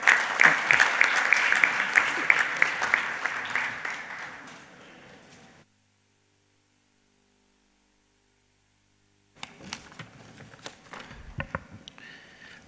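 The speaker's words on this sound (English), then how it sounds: "Let's have a huge round of applause as we welcome him for a keynote address." A large audience at a financial-sector conference applauds to welcome a keynote speaker, loud clapping that gradually fades to silence, then scattered claps and shuffling resume after a pause.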